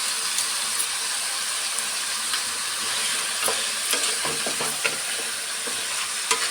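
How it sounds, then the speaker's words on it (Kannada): Turmeric and spices fry in oil in a pan, giving a steady, close sizzle with small crackles and occasional stirring scrapes throughout, no voices. "ಅರಿಶಿನ ಎಲ್ಲ ಹಾಕ್ಬಿಟ್ಟು ಎಣ್ಣೆಯಲ್ಲಿ ಸ್ವಲ್ಪ ಫ್ರೈ ಮಾಡಿ"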